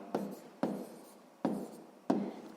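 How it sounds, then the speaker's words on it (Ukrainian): Chalk or pen scratches out a number during a sixth-grade maths exercise, four distinct sharp strokes each trailing off into a short rubbing scrape, close and quiet, with no speech. "Так, запишемо це все число 182."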